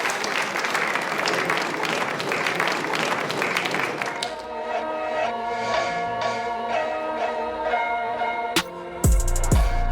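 An audience bursts into loud applause and cheering for about four seconds, then the clapping gives way to music with rhythmic tones and a few sharp hits.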